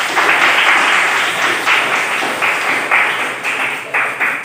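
A university classroom group in Palangka Raya claps together in lively, loud applause, a thick burst of many hands that swells and fades in short rhythmic waves.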